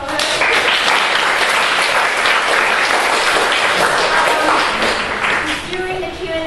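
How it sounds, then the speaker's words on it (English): Sustained audience applause for violinist Eden at a talk event, dense clapping from a crowd filling the whole stretch at steady loudness with a murmur of voices beneath. "So one more applause for her."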